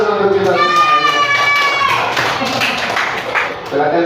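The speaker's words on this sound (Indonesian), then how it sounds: "tepuk tangan dulu untuk kita" Schoolchildren in a classroom clap together in a lively, somewhat rhythmic burst, close and loud, mixed with children's voices and a sung or chanted tone over the clapping.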